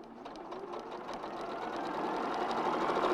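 A sewing machine stitching a log cabin quilt, a rapid close steady whirring hum that builds slightly in speed and loudness, with no voices.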